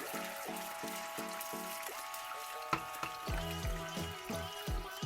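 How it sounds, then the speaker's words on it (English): Olive oil and salt cod sizzle and bubble steadily in a pan for bacalao al pil pil, with rhythmic scraping or shaking pulses as the pan is moved, close and moderately loud. "this bubbling is what we call pil pil"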